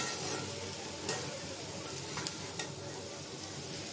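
Shrimp, Malabar spinach and potato fry in a pan with a faint, steady sizzle, broken by a few soft clicks of stirring.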